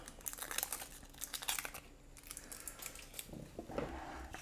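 Papery onion skin being peeled off by hand, with roots left on, giving a run of close, dry crinkling and crackling rustles that comes in short bursts and then eases off.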